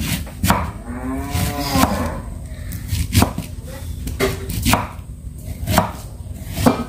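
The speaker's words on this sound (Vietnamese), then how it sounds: "sắp bắp cải" A knife chops cabbage on a cutting board in a home kitchen, with sharp, evenly spaced thuds coming every half-second or so, close and distinct, over low background hum and a faint lowing-like tone.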